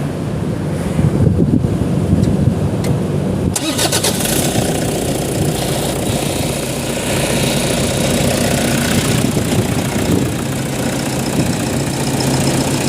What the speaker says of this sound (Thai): เดี๋ยวเราจะติดเครื่องนะครับ ติดเครื่องไล่น้ำ